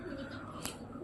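Pigeons at a home loft, a soft low cooing murmur close by with a brief sharp flutter or click midway, quiet and short.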